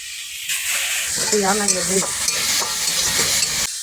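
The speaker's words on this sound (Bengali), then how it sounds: "দিয়ে দেবো গ্রেট করা রসুন, কাঁচা লঙ্কা এবং পেঁয়াজ, নেড়ে চেড়ে নেব।" Grated garlic, green chili and onion sizzle and hiss while being stirred in a frying pan, a steady frying crackle with soft scraping, and a brief tonal sound briefly rises over it midway.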